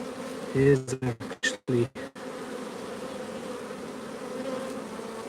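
Honey bees buzz around an open beehive while a beekeeper inspects supers and a queen cell, a steady hum running under close speech with a few sharp handling knocks near the start.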